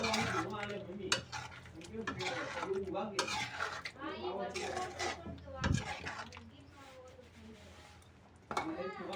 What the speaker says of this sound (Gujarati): અને હવે આપણે એને હલાવી નાખશું.